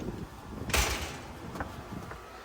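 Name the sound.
security screen door being shut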